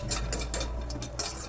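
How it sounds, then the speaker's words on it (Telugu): Onions frying in oil in a pan for paneer biryani, a soft sizzle under repeated scraping strokes of a spoon against the metal, close and brief, with no talking. "ఇప్పుడు నూనె వేసుకున్నాం కాబట్టి ఈ నూనెలో ఉల్లిపాయలు వేయించుకున్నాం"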